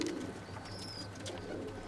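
A game pigeon landed on a rooftop coos faintly in a low continuous murmur at a distance, with a thin whistle-like tone and light background noise, and no one speaking.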